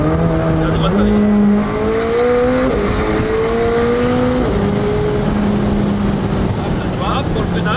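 A McLaren 765LT convertible pushed hard on an open road: the engine climbs in pitch, drops sharply at each quick gear change, then climbs again in a rising series of pulls, loud and close, with road and wind roar throughout.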